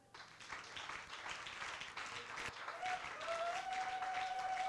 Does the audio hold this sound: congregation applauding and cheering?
yes